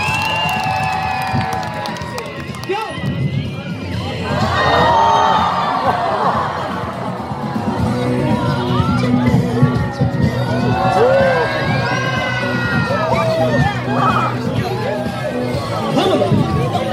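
Festival crowd outdoors cheering, whooping and clapping loudly throughout, with children's shouts and excited voices mixed into a dense, sustained wall of audience noise.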